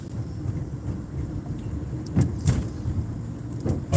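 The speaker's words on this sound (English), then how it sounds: "Just trying to take a nice little drive down the strip" A car cruising down the Las Vegas Strip on a Sunday drive, heard from inside as a steady low road and engine rumble with a few soft thumps and bumps, no voices.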